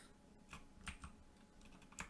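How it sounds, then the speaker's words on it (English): A computer keyboard is tapped in a short, irregular burst of several distinct keystrokes, very quiet and close, with no talking. "you type in like Leap and it shows all the Leap interfaces that it uses"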